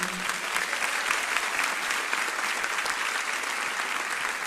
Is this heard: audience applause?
yes